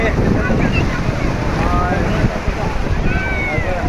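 Sea waves at Digha beach in West Bengal wash in continuously at low tide under loud, buffeting wind, with a person speaking over the surf.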